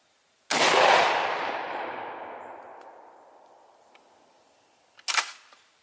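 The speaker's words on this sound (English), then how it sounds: "Let's check out what 12 gauge does." A Kel-Tec KSG 12-gauge shotgun fires a target load at a tire rim: one loud, close blast with a long fading echo, then a sharp metallic clatter about four seconds later.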